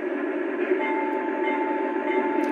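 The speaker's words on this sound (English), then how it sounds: "Then of course we have the bell feature" A Lionel US Army Veranda Turbine model train sounds its bell feature, a steady sustained electronic ringing tone over a constant hum for a few seconds, with no talk.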